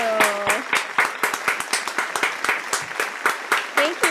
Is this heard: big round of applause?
yes